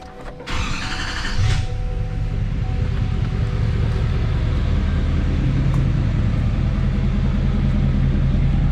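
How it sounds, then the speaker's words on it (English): A 2020 GMC pickup's L5P diesel engine cranks briefly on a cold start, then fires and settles into a loud, steady, rumbling idle that carries on to the end. No voices are heard. "I do want to show you guys cold start on this truck one more time"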